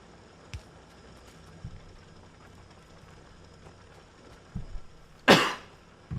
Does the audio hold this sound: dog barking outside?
no